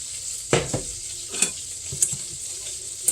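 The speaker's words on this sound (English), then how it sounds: "Mix it around." Chicken Alfredo sauce stirred in a pan, with repeated scraping strokes and light clinks of the utensil against the pan over a soft, steady sizzle, close and alone.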